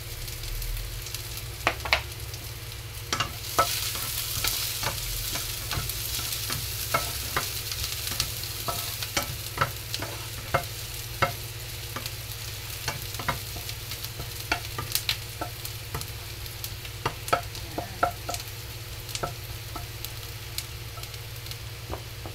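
Onion and garlic sizzle steadily while frying in a pan, a continuous crackling hiss with scattered sharp pops and stirring scrapes, close and alone throughout.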